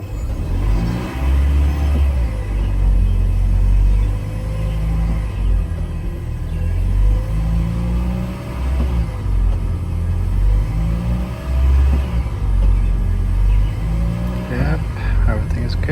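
A 2010 Toyota Prius on a test drive after a DIY hybrid battery replacement, with a steady low road and engine rumble, swelling now and then as it accelerates, and a voice talking over parts of it.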